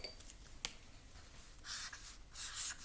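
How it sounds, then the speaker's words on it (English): Pen scratching on paper as a short P.S. is handwritten at the end of a letter, a quiet close scratching in short strokes that grows denser toward the end. "So I am just going to write"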